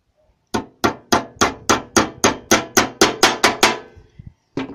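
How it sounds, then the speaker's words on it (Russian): Small nails are hammered into a wooden beehive frame: about a dozen sharp, evenly spaced blows in quick succession, close and crisp, followed by a few lighter taps and one last knock. "Забиваем гвоздики. Чтоб не лопалось."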